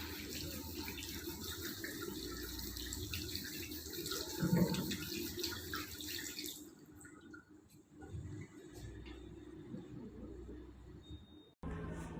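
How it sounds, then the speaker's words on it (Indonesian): Water runs steadily from a tap while hands are rinsed at a sink, a continuous close splashing hiss that drops away partway through and resumes more faintly before a brief final burst. "Dan bilas dengan air mengalir."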